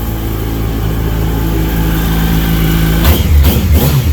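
A 2006 Yamaha YZF-R1 Anniversary sport motorcycle with stock exhaust idles steadily nearby, then gets blipped into several quick, deep, throaty revs near the end.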